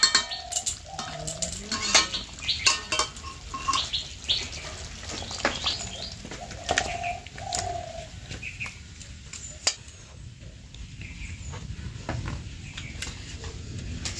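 A spoon stirs mustard chicken, with green chilies and mustard oil added, in a pan. Intermittent clinks and scrapes against the metal pan sound close and alone, with no talk.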